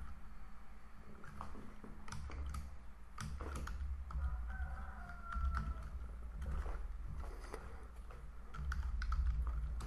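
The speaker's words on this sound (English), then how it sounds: "So I'm just typing in the label," Keys tapped on a computer keyboard while entering labels in an Excel spreadsheet, an irregular run of light clicks close by over steady low room noise, with no talking.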